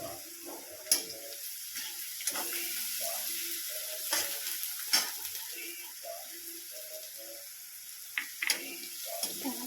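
Garlic and curry leaf paste sizzles with browning onions in a pan for Khandeshi bharit, a steady frying hiss with scattered clicks of a spoon stirring through it, close and moderately loud, no talking.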